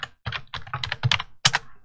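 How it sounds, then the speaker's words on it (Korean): Computer keyboard keys pressed for a Windows key + S shortcut, heard as a short run of crisp, close clicks in quick bursts with brief gaps and no voices. "키보드에서 윈도우 키 S를 누르시면 됩니다."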